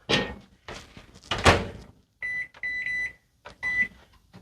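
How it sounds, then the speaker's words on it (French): A microwave oven heating pea soup for seven minutes: a door thunks shut and buttons are pressed, followed by several short electronic beeps, all close and fairly loud. "on l'envoie 7 minutes au micro-ondes"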